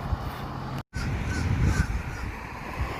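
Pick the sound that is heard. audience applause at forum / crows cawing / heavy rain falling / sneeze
crows cawing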